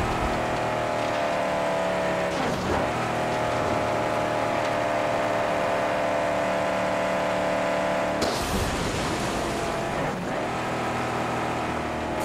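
A vehicle engine drones steadily at high revs while driving across the wasteland in the 2015 Mad Max game, with brief gear-shift dips and a rougher burst near 8 seconds, loud and continuous with no speech.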